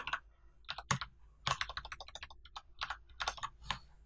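Quiet, close keystrokes on a computer keyboard come in quick irregular bursts with short pauses between them, like someone entering code. No talking is heard.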